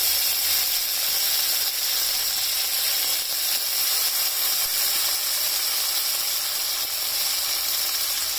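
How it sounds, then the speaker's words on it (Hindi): Ginger garlic paste sizzling in a hot pan while chilli paneer is cooked, a steady loud hissing fry with no talk. "1 टीस्पून अदरक लहसुन पेस्ट है, जिसको हम अच्छे से भून लेंगे।"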